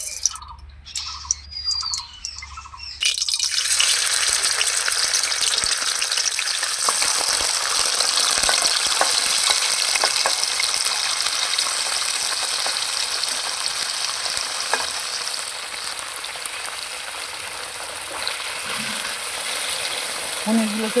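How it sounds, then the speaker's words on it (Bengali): Paneer sizzles and fries in hot mustard oil in a wok, a loud continuous crackle that starts abruptly after a few quiet seconds and carries on steadily with occasional stirring. "কড়াই গরম করে নিয়েছি, এখন সরষের তেল দিয়ে পনিরগুলোকে ভেজে নেব।"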